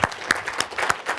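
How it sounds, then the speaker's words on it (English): An audience at a webinar training event claps briefly, a dense patter of many hands with several louder individual claps popping out at a loose, uneven rhythm. "Yes, give him a round of applause."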